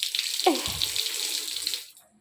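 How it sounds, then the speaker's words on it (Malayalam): Water gushes steadily from a tap indoors in a house kitchen, a continuous hissing splash that starts at once and trails off after about two seconds, with no talk over it. "പൈപ്പ് തുറക്ക്, മമ്മിക്ക് കാണിച്ചു കൊടുക്കാം."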